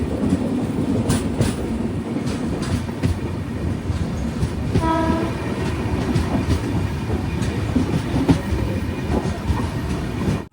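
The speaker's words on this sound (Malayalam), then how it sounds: "ഇവിടെ ഓൾറെഡി വേറൊരു ട്രെയിൻ കൂടെ ഉണ്ട്." A train rumbles and clatters steadily at a South Central Railway station in Telangana, with another train standing alongside, and a brief horn-like tone near the middle rises over the constant loud rolling noise.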